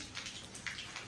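Water pours from a tank being cleaned, a brief close splashing and trickling rush with uneven droplet spatters, heard on its own.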